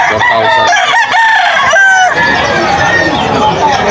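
Many chickens cluck and a rooster crows amid a busy, noisy crowd at a chicken market, with people chattering in the background throughout.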